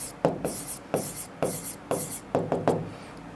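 Numbers are written by hand on paper while working a class 9 math exercise: a series of short, close scratchy pen strokes in quick irregular bursts, separated by brief pauses.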